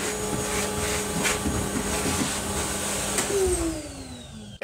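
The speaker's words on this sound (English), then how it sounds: "I was hoovering at the time for at least some of the recording" A household vacuum cleaner runs close by with a steady, loud whine and broadband roar, then winds down in pitch as it switches off at the end.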